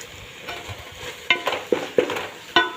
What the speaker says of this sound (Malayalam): എന്നിവ ചേർത്ത് നന്നായിട്ട് ഇളക്കി കൊടുക്കാം.